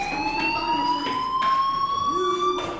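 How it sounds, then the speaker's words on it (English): Fire alarm ringing in the video game Life Is Strange, a loud, steady electronic tone holding a sustained pitch that rises slowly, with brief bursts of background noise. "Hey, do you hear that fire alarm?"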